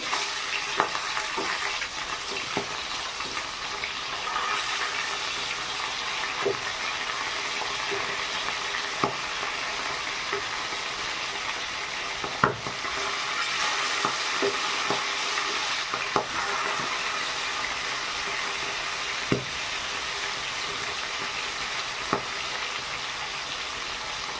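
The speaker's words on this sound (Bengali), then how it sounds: "ততক্ষণে মাছ ভাজাটা হোক। উল্টো পাশ ঘুরিয়ে নেব মাছে।" Pangasius fish fry in oil in a pan, giving a steady dense sizzle with scattered sharp pops and crackles throughout, close and loud with no talking.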